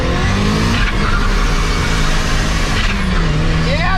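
The Ricermiata car, just back from an alternator repair, drives off with a loud, steady engine roar close by and a brief tire squeal near the end. No one speaks.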